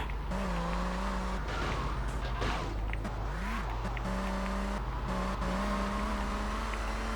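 Car engine and tire squeal in the video game GTA Vice City Stories, the motor droning and shifting pitch as the car speeds up and slows, with a rising squeal of sliding tires midway, loud and continuous, no talking.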